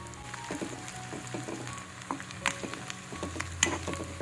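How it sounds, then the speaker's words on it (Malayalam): Coconut pieces, curry leaves and crushed chilli fry in coconut oil for a beef curry, a low steady sizzle broken by scattered crackles and a few sharper spatters and scrapes. "ഇതെല്ലാം കൂടി നല്ലോണം ഒന്ന് വെളിച്ചെണ്ണയിലൊന്ന് മൂപ്പിച്ചെടുക്കുക"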